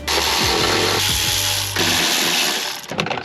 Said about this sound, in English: The use of power tools makes everything so much easier.